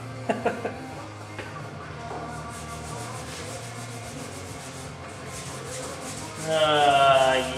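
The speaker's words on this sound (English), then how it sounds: "How's that made in Canada sandpaper working?" Steady abrasive rubbing of sandpaper over wood, continuous and close, growing louder and harsher near the end.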